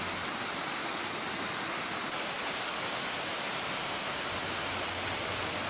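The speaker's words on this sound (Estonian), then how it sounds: "Kivisilla juga kuulub Eesti 3 kõrgeima joa hulka." The Kivisilla waterfall in Ida-Virumaa, Estonia, one of the country's highest at a 22.8-metre drop, roars in a dense, unbroken wash of falling water, loud and close throughout.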